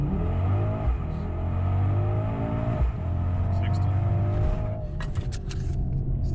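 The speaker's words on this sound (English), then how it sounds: "This time standing on the throttle." A 2020 Mercedes GLS 63 at full throttle from 0 to 60, its engine rising in a steady loud rumbling roar with climbing pitch and brief dips at gear changes, heard from inside the cabin.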